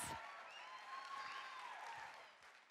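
Audience applause at an inspirational talk event, a broad steady patter of clapping from a crowd lasting a few seconds, with a faint whistle-like tone running through it.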